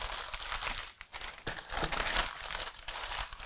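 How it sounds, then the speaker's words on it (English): Parchment paper crinkles and crumples continuously as it is folded and sealed around an almond-flour-crusted flounder fillet, close and loud with brief pauses in the handling. "Wrap it like a nice little package."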